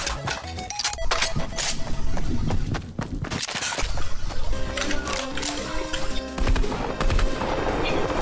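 Rapid gunfire in the video game Fortnite, dense bursts of shots with clinking and impacts, loud and continuous across the whole stretch, with no talking.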